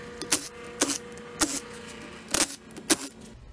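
M8 bolts being removed from a 150cc go-kart CVT case: five sharp metallic clinks spaced roughly half a second apart, like loose bolts dropped or tools tapping, close up over a faint steady hum.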